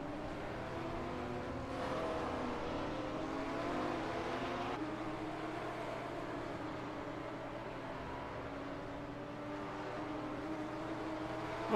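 A Porsche GT4 race car engine in a sim racing game at Brands Hatch: a steady, moderately loud droning engine note with slight pitch shifts as it holds speed, continuous throughout.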